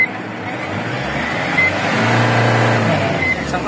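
A car engine revs as the accelerator is pressed once, the rumble rising in pitch and loudness, then holding and easing slightly, close and clear with no talk over it.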